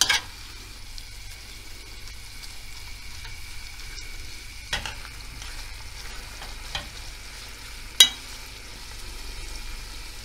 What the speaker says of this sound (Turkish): Soğanla birlikte kavuracağım.